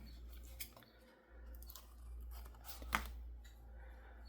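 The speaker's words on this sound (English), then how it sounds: "It's going to need a little trimming on the bottom." Paper being trimmed for a junk journal, heard as a few quiet crisp snips and rustles, with one sharper cut near the end and low background hum throughout.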